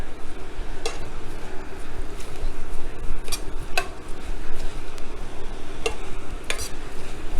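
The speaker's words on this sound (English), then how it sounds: "you're going to just fry the rice a little bit" Long grain rice frying in a pan for Spanish rice: a steady sizzle and crackle with a spoon scraping and stirring, plus several sharp clinks against the pan. It is close and loud, and no one speaks.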